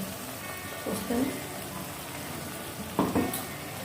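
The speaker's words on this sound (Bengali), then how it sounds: "এবার আমি কন্টেনারটা ধুয়ে বাকি জলটুকু দিয়ে দিলাম" Water splashes into a sizzling poppy-seed egg gravy in a pan, a steady fry hiss broken by two short bursts of pouring and bubbling.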